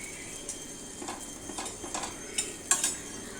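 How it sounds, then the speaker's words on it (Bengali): Bread frying in ghee gives a soft, faint sizzle in the background, broken by several light clinks and scrapes of a utensil against the pan, with no talk. "অবশ্যই ব্রেডগুলো ঘিয়ে ভাজতে হবে, এতে করে টেস্টটা খুব ভালো হয়।"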